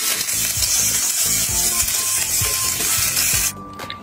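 Lamb chops roasting in an oven at under 200 degrees, a steady close hiss and sizzle with faint crackles throughout, which thins out abruptly near the end.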